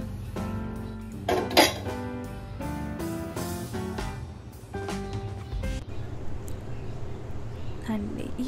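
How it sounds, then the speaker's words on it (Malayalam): Half-cooked papaya pieces being strained in a metal kitchen vessel, giving repeated clinks and clatters of pot and utensil, close and fairly busy in the first half, then quieter scraping. "ഓഫ് ചെയ്തിട്ട് നമുക്കൊന്ന് സ്ട്രെയിൻ ചെയ്തെടുക്കാം"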